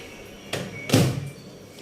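A microwave oven door is handled while making tea, a soft click followed by a firmer thud as the door shuts, two brief close knocks in a quiet kitchen.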